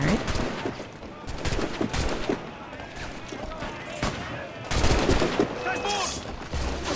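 Bursts of gunfire in Assassin's Creed Black Flag crack in rapid clusters, some loud and close, others scattered, with a volley near the end.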